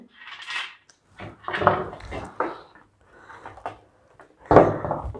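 Potatoes are set one by one onto a kitchen weighing scale, making several distinct knocks and clunks with short pauses in between, close and fairly loud.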